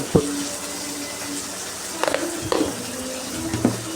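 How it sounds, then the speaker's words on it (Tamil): Okra sautéing in a pan crackles softly under steady stirring, with a few sharp spatula scrapes and knocks against the pan. "இந்த அளவுக்கு நல்லா கிண்டி எடுத்துக்கிட்டு அங்கே காய் வந்து வதங்கிட்டுருக்கு"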